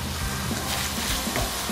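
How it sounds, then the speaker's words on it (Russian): Prunes frying with tomato in a pan give a steady, even sizzle at close range, with faint scrapes of stirring here and there. "Немножко его обжарим с томатом."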